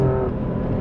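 An Alfa Romeo Stelvio Quadrifoglio in race mode gives a short, loud burst of engine roar as it accelerates hard, heard close and without any talking.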